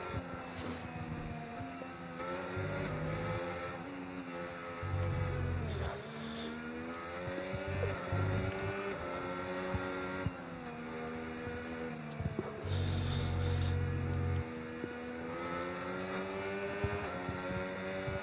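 McLaren race car in iRacing rolling out onto the track, a steady engine drone with rising and falling revs and gear changes, fairly quiet and continuous throughout.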